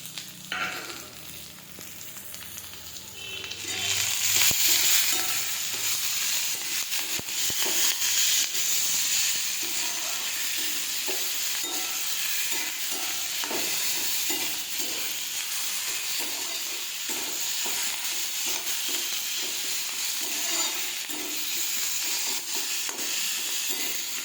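Tomatoes frying in a pan while making Maggi noodles, a loud hiss and sizzle that jumps up as they go in, then keeps up a steady crackling fry with soft stirring scrapes.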